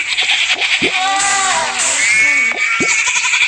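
Sheep bleat in the mobile farming game Township. Several wavering, tonal bleats come one after another, loud and close over a steady game backdrop.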